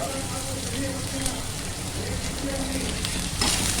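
Onion pieces and curry leaves frying in hot oil for a curry, a steady dense sizzle and crackle that stays loud and continuous throughout, close up with no voices.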